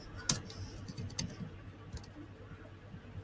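Computer keyboard keys clatter in scattered, quiet clicks and taps, a sharp keystroke near the start followed by a few sparse presses over low room hum, with no talking.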